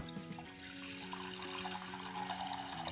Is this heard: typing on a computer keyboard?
no